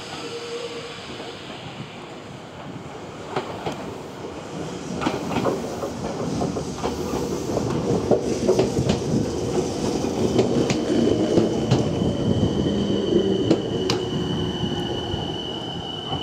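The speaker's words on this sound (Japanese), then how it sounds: "まもなく5番線に電車が参ります。" Meitetsu 3100 series express train pulling into the terminal platform at Inuyama Station, a close rumble and clickety-clack of wheels that builds then eases, with faint squeals and station ambience and no talk.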